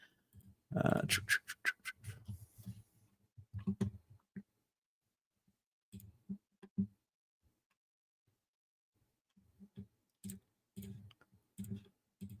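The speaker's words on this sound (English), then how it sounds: "I'm clicking around here." Computer mouse clicks come in quick close bursts, a dense rapid cluster early, then scattered single and double clicks with long quiet gaps, soft and alone with no talk.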